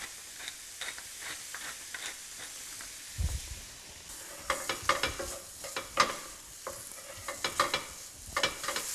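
Meat for Hungarian goulash sears in a pot with a soft hiss and crackle, broken by a spoon's clustered knocks and scrapes that grow busier and louder in the second half.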